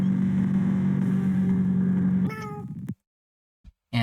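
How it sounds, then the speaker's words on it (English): Spooky cats meow in the platform game PUSS!, a couple of drawn-out, wavering cries over a droning music bed, followed by a sudden cut to near silence and a brief final chirp. "And it has spooky cats."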